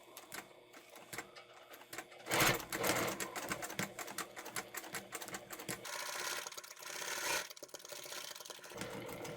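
A sewing machine stitches circles continuously with its presser foot down, a steady mechanical whirr running alone for several seconds with slight surges in speed.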